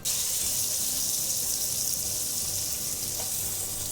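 A steak sizzles and crackles steadily in a hot pan, a dense, loud hiss with no talking over it for a few seconds.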